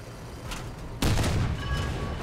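A Ho-Ri tank destroyer's cannon fires in War Thunder, one sharp heavy boom with a broad rumbling tail that follows a steady engine drone, loud and close.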